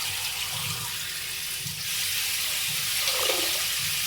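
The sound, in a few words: water running from a tap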